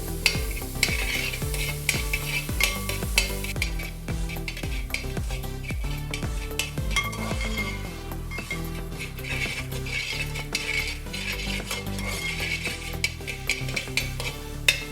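Chopped onion and green chilli sizzle and fry steadily in a pan, with a spoon stirring and scraping against the metal throughout, close and continuous with no voices.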